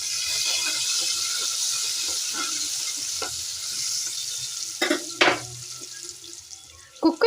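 Hot oil sizzles steadily as tempering spices and curry leaves fry in a pan, a continuous crackling hiss with a few louder stirring clatters and splashes toward the end.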